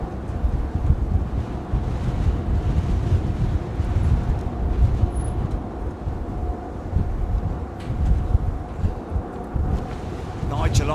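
Strong wind buffeting the microphone at London Heathrow Airport, a steady heavy rumble with gusts rising and falling throughout, and faint airport noise beneath it.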